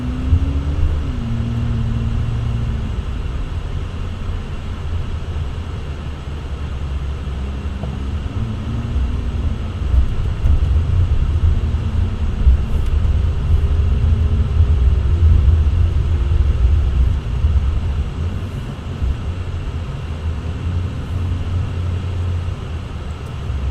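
A steady, loud low rumble of a car cruising along a road, with a constant road and engine drone and faint shifting tones, heard from inside the vehicle without any talking.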